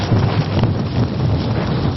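Strong mountain wind at 2600 metres altitude buffets the microphone in a continuous, loud, low roar with no pauses.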